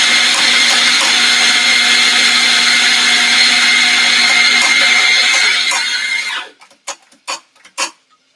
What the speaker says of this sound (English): All right, so let's grind the coffee.